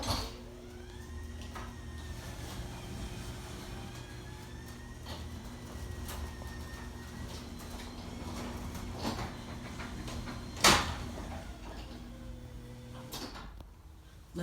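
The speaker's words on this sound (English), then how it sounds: "now I'm going to run my garage door openers" Residential garage door openers run with a steady mechanical motor hum and drone for about thirteen seconds, then stop abruptly. A sharp clunk lands near the end of the run.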